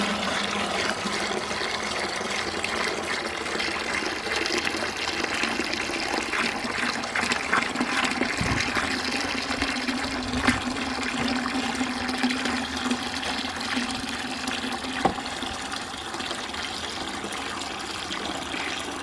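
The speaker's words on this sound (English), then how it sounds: "and here goes the water." Water pours steadily into a bucket during a strength test of PLA 3D-printer filament, a continuous loud gushing rush that runs unbroken the whole time.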